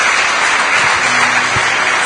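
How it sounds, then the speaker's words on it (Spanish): Church congregation applauding together, a short, dense burst of steady clapping heard from within the crowd. "le vamos a dar un fuerte aplauso a nuestro Dios"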